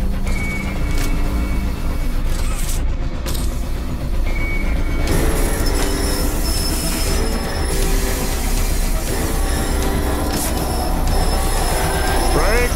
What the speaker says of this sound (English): I'm trying to stop the train.